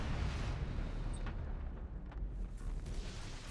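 A plasma bomb in Battlefleet Gothic: Armada 2 erupts in a continuous, dense roaring blast, a loud low rumble sustained throughout with crackling bursts layered on top.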